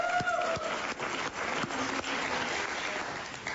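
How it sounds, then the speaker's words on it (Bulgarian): A studio audience on a television talk show breaks into dense, continuous applause, a broad wash of many hands clapping at once that holds steady throughout with a faint voice briefly at the start. "Ето аплодисменти от цялата публика имаш."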